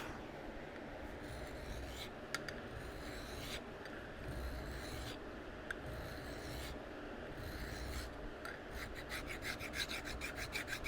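Hand sawing or filing through a metal part of a Spencer pump shotgun clamped in a vise, a steady rasping stroke repeated throughout, close and fairly loud with sharp clicks near the end.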